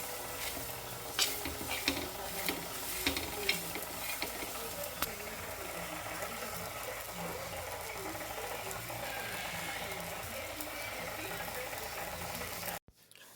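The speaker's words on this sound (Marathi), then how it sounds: "आता इथे मी मस्त तव्यावर हे छान असे खरपूस भाजून घेणार आहे" Fresh pigeon pea pods roast on a griddle, tossed with soft scraping and a quiet continuous crackle, plus scattered light clicks, faint and close until a sudden cutoff at the end.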